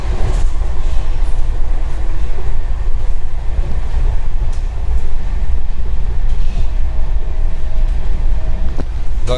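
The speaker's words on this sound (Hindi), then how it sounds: "हम लोग यहाँ पे किसी एक्सप्रेस ट्रेन को ओवरटेक किए खुर्जा पे।" The West Bengal Sampark Kranti Express runs at speed past Khurja while overtaking another express train, giving a steady, loud, broadband rumble with rattling and wind noise throughout and no voices.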